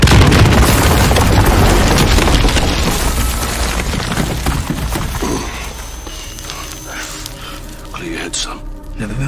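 Missile explosions in Call of Duty: Modern Warfare hit as loud, sustained booming blasts that fill the first half and then fade into rumbling debris, with voices talking over the game audio.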